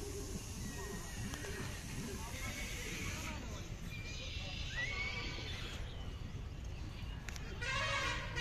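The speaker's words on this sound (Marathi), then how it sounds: "पाहू शकता सुंदर घोडे" A horse neighs at a crowded livestock fair's horse market: a few whinnies rise out of constant crowd murmur and background chatter, with a bright call near the middle and general bustle throughout.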